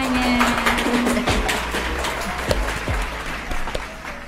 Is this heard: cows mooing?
no